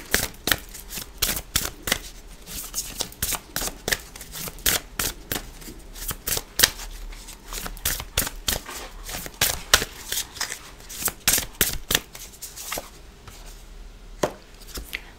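Tarot cards being shuffled by hand, a busy stream of crisp riffling and slapping clicks in uneven bursts, close and fairly quiet, with no voice over it.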